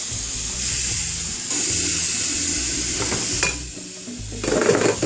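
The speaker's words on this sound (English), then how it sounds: "Coffee maker." A home kitchen coffee maker brews, giving a continuous bubbling, sizzling hiss with a steady low gurgle that swells louder near the end, close by and with no talk.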